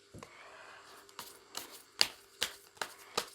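Tarot cards are shuffled by hand in a series of crisp, quick riffles and snaps, about eight close, distinct bursts spread over a few seconds.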